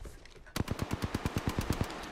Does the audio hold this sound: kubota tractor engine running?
no